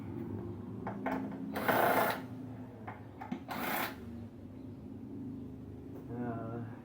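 Wrench or ratchet work on the gas tank bolts of an older Craftsman lawn mower: two short, fairly loud metallic bursts over a low background hum, with a quieter rattle near the end.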